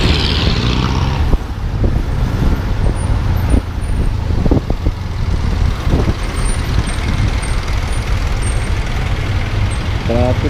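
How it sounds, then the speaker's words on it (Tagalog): City road traffic in Baguio City: a loud, steady rumble of cars, trucks and buses, with passing engines and brief air-brake hisses over a dense roadway din. There is no clear speech. "Traffic din dito, parang Maynila din."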